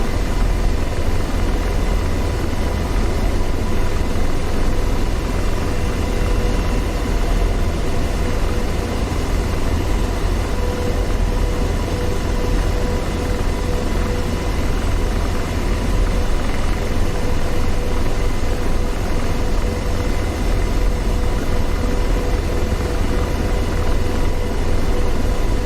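A helicopter in the DCS World flight simulator on the Marianas map during night operations, its rotor and engine droning loud and steady without a break as it descends.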